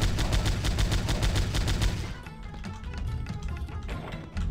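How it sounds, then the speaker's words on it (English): Grenade explosions in the video game Powerslave Exhumed, a rapid string of loud, booming blasts in dense succession, then fading into rumbling, scattered echoes. "I was just gonna toss a grenade up there for you, bud"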